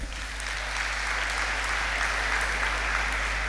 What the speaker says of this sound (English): So please give applause to class 1 intensive